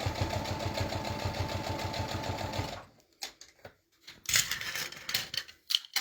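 A sewing machine runs a straight stitch across a pillowcase, a rapid even mechanical chatter for about three seconds, then stops, followed by scattered handling clicks and rustles of fabric.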